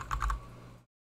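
A computer keyboard is typed on briefly: three quick, close, light key clicks, then quiet as the sound cuts off.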